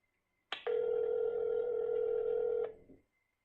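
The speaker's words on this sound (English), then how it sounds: "We're going to go and call him right now and get him on the phone." A telephone tone sounds during an outgoing call: one steady, loud ring-back tone holding for about two seconds and then cutting off, with no talking over it.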